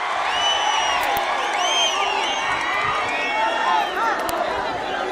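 A large crowd at a political rally in Penukonda roars with dense cheering, whistles and shouts, loud and continuous throughout, with no distinct clapping standing out.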